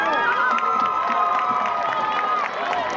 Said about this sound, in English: Let's give the 2014 Homecoming Chorus a round of applause.